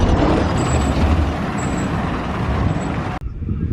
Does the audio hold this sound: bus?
yes